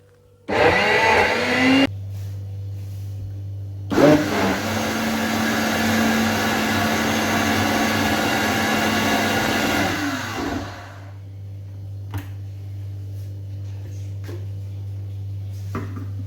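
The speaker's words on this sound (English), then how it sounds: "in order to make it easier for my blender blade to turn" Kitchen blender pureeing cabbage for moi-moi: a short burst, a pause, then a long steady whirring run of about six seconds that winds down, followed by near silence with faint clicks.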